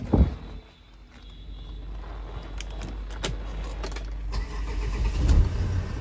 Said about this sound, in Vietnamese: sau đây em sẽ nổ máy cho các bác cùng xem về cái máy này nhé